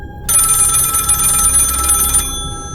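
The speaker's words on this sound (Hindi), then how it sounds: "उसके साथ ही फोन की घंटी बजने लगी" A home telephone bell rings in one loud, close burst of rapid metallic trilling for about two seconds, then cuts off abruptly. A low rumbling drone sits beneath it, and no one speaks.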